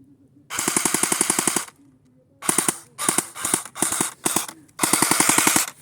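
A Cyma airsoft rifle fires continuous full-auto bursts, heard as a rapid, mechanical rattle of evenly spaced shots. A long burst is followed by several short bursts and then another long one, all close and loud.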